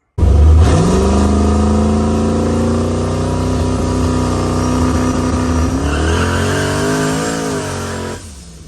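A turbocharged hatchback on low boost pulls hard down a street at night, its engine note climbing steadily in pitch as it accelerates, loud and close throughout before cutting off at the end.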